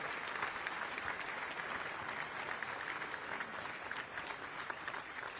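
An arena crowd at a high school boys basketball state championship gives a sustained, even round of applause, dense clapping filling the space without pause.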